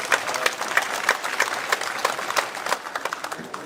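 Lively applause from a gathered audience, many hands clapping densely with sharp individual claps poking through, fairly loud and continuous throughout.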